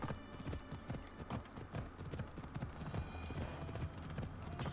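Horse hooves clip-clopping steadily in the video game Assassin's Creed Odyssey, a continuous rhythmic trot heard up close for several seconds with no talk over it.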